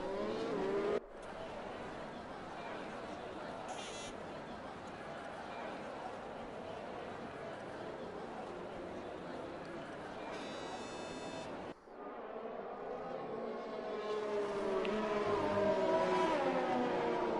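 Race car engines from the F1 2020 video game drone steadily through a slow formation lap, a continuous broadband roar with a brief cut near the start and another near twelve seconds, then rising revs toward the end while a voice talks over it.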